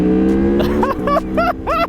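A 2023 Aprilia Tuono V4 Factory motorcycle engine revs hard and loud close up, climbing through several rising pulls with brief dips between them, as if shifting through gears.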